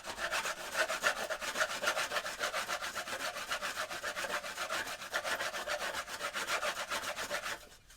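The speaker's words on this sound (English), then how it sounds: "2 pieces of wood, and I'm rubbing them together" Two pieces of wood are rubbed together as percussion, producing a loud, close, continuous rasping scrape that pulses in an even rhythm for about seven seconds before stopping abruptly.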